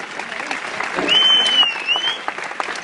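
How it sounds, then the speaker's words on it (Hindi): Audience applause for Trivesh Kumar at a Naswiz Retails celebration event, a dense clapping crowd under a thin, high whistle-like tone, swelling slightly in the middle of a short burst. "जोरदार तालियां होनी चाहिए तिरवेश कुमार"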